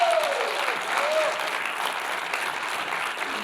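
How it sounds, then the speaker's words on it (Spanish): A church congregation applauds the multimedia team, a loud, continuous roll of many hands clapping that holds steady for several seconds, with a few voices rising from the crowd. "Un aplauso para los chicos de multimedia."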